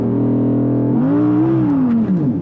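An Audi R8 V10 Performance launches hard from standstill on a slippery track with cold tyres, its loud, close engine holding a deep, steady drone before the note climbs and strains through the revs.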